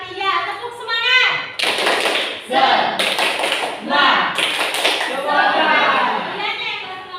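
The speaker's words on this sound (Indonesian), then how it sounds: "Coba 1, 2, 3, tepuk semangat." A class of children does a rhythmic spirit clap in a classroom, with bursts of clapping and tapping in short patterned groups. Kids' voices are heard before and between the claps.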